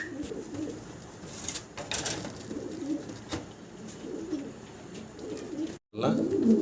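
A pair of Andalusian-coloured racing pigeons coo in low, soft rumbling phrases, close by amid steady background noise and occasional rustling, with a brief dropout near the end.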